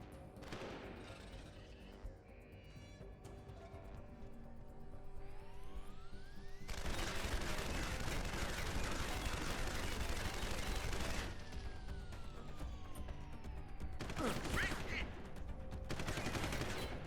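Gunfire in a Deus Ex: Human Revolution Director's Cut firefight: sustained loud bursts of shots and automatic fire over several seconds, with quieter game sound and a voice around them.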